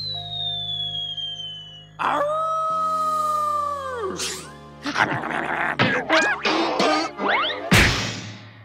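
Cartoon green howler creatures let out a series of wavering, rising and falling howls, loud and close, followed by a quick string of shorter yelps and cries with a crash-like burst near the end.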